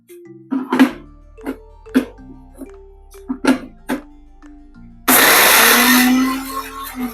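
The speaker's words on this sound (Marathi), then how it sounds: "आता याचं वाटण करायचं पाणी न घालता." A mixer grinder whirs loudly as it grinds coriander, garlic, two green chillies and ginger without water into a paste. The dense, close grinding roar starts abruptly after quieter tonal sounds and runs steadily for about two seconds.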